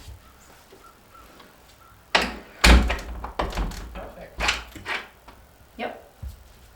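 A newly installed door on a mobile home porch is swung shut with a firm thud, followed by clicks and knocks of the latch and lock, with a few scattered handling noises.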